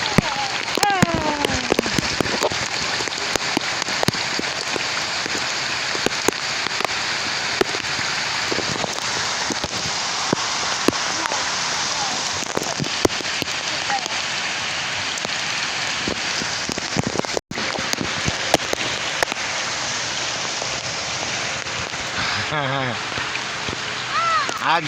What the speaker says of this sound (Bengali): এই যে বৃষ্টি পড়তেছে টাপুর টুপুর